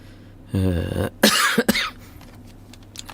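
A person coughs close by, a voiced hack followed by a couple of short, harsh coughs, then quiet.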